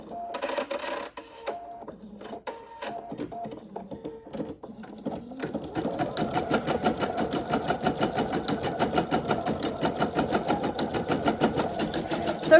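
An embroidery machine starts with a few separate clicks and needle taps, then settles into a fast, steady, rhythmic mechanical stitching chatter that runs on continuously at close range.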